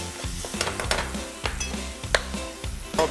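Tadka tempering with red chili powder sizzles in a pan, with steady frying hiss and several sharp stirring clinks and scrapes spread across the stretch, close and fairly loud, no voices.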